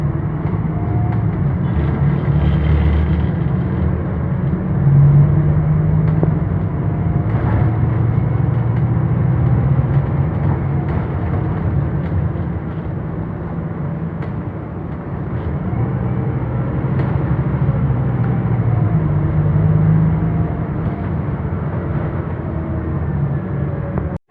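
Inside a TransJakarta regular maxi bus on Corridor 13, a steady low rumble of the ride fills the cabin, with a faint engine hum swelling and easing and no voices.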